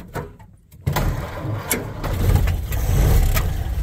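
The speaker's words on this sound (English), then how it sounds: "So that's kind of how I would expect a Model A to start on a warm day or a cold day." A 1929 Ford Model A engine on a cold morning, set with retarded timing and some throttle, catches after a few brief knocks and settles into a steady, fairly loud low running rumble.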